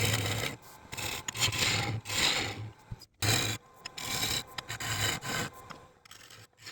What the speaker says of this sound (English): We're going to start off here just by roughing down these blanks that I have.